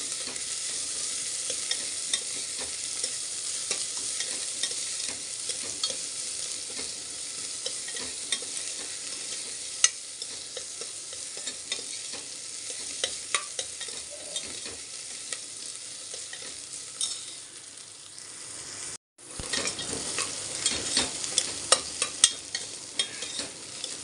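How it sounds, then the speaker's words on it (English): Chopped onion sautéing in a pan with ginger garlic paste for beetroot pulao, a loud, continuous close sizzle with scattered crackles and pops, cutting out briefly near the end before resuming. "Now add the onion. Saute this for few seconds."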